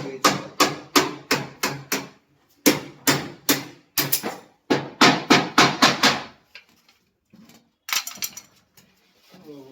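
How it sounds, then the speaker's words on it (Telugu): Sharp hammer blows strike old door hinges during a repair job in Rajiv Nagar, Erragadda Road, coming in rapid bursts of four to six close, loud knocks, then fading to a few scattered faint taps and a final short cluster. "ఇదైతే బొందులు అయితే పీకేసాం మనం"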